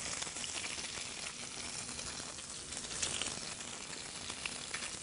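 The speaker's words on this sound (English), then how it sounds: "we'll get our fillets in there to sear the fillets" Beef fillets sear in hot olive oil over high heat, a continuous soft sizzle and spatter heard close by at low volume, with no voices.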